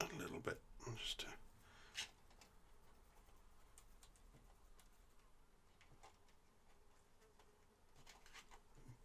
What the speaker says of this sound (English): Excuse the fly buzzing around.